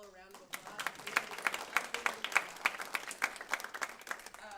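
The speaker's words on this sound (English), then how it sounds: "can we give them all a round of applause?" Forum audience applauding teachers, a room of hands clapping in a moderate, fairly faint burst that follows a brief voice at the start and fades toward the end.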